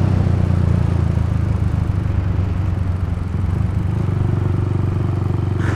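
A Rusi motorcycle engine running steadily at high revs around 8,000 RPM while riding at speed, a loud continuous buzzing drone with slight wavering, close up and alone.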